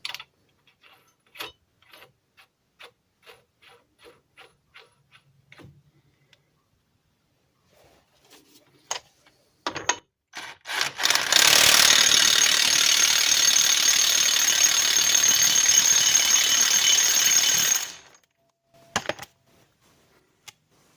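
Ratchet spinning a fastener down on a 1998 Ram 1500 axle during U-joint and axle seal work: scattered close clicks, then a fast continuous ratcheting whir for about six seconds, ending with a few final clicks.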